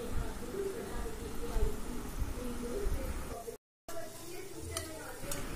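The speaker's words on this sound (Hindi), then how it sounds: "आप धीरे धीरे इसे पलटें और चारों ओर घुमाकर इसे डीप फ्राई कर लें।" Gulab jamun balls deep-fry in hot oil while a spoon slowly turns them, giving a steady close sizzle with light stirring scrapes, a voice over it and a brief gap of silence near the end.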